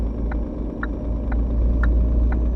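A car passing a container truck on an open road, heard from inside the truck cab as a loud steady engine rumble and road drone with faint rhythmic ticking, the whoosh swelling slightly toward the end.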